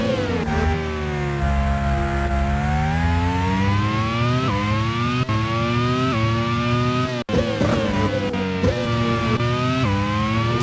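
A Formula One car in a racing video game, at a simulated 1991 Australian Grand Prix: its high engine whine holds loud and close, rising and falling through several gear changes with a brief dropout.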